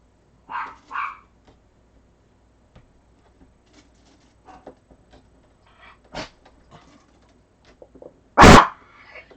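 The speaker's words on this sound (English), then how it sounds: "Dogs." Several sharp dog barks, loud and close, come in scattered bursts with quiet gaps between them, including one strong bark near the end.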